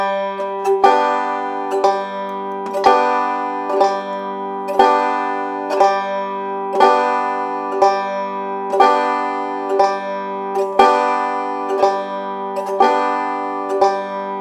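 Banjo played with the pinch technique, single notes and plucked groups ringing out one per beat in an even slow rhythm at 60 bpm, with a faint metronome tick, clear and close with no talking.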